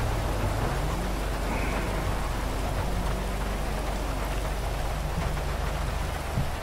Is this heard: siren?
no